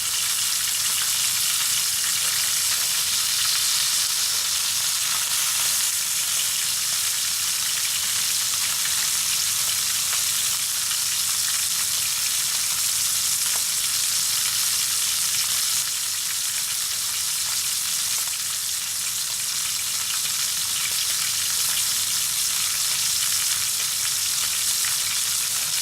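Meat sears in a hot frying pan with a steady, dense sizzle that crackles evenly throughout, close and moderately loud with no talking.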